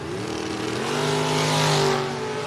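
Drag race cars, a dragster and a Malibu, launch down the strip at the Mutt and Jeff Fall Brawl with a loud, steady engine roar that swells to a peak and then eases slightly, with no talking.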